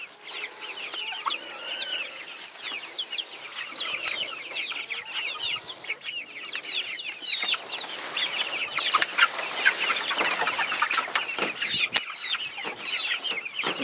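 A flock of chickens clucking busily as they rush to fresh grass, many overlapping calls close by with scattered scratching and rustling, no voices.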